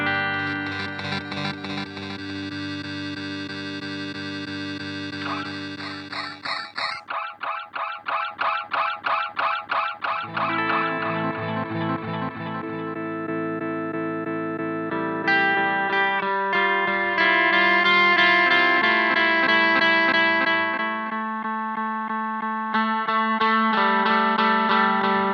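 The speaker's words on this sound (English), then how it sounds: "Let's hear the sample rate reduction." Chase Bliss Onward guitar pedal applying sample rate reduction, sustained guitar chords turned gritty and aliased with a choppy pulsing texture, shifting between held tones, steady and fairly loud with no talk.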